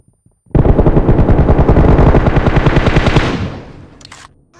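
Sustained automatic fire from an M416 rifle in PUBG, a loud, rapid burst of shots lasting about three seconds before trailing off, with no talking.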